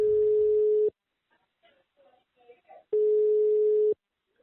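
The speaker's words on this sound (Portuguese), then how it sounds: "Então eu peguei o celular e liguei pro seu José para saber a história dele." Mobile phone call tone, two long steady beeps separated by about two seconds of near silence with faint background noise.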